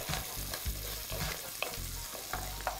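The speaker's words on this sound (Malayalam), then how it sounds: "ഇനി അതും കൂടെ നമുക്ക് നന്നായിട്ടൊന്ന് വഴറ്റിയെടുക്കാം" Finely chopped onion sautéing with curry leaves in a pan, a steady soft sizzle broken by repeated scraping stirs at a close, moderate level, with no voices.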